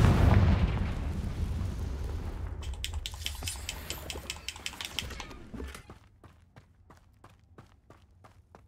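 Confringo fire spell explosions in the video game Hogwarts Legacy: a heavy rumbling blast that fades out, followed by a rapid series of sharp crackling impacts and then a sparse, decaying sequence of fainter bursts.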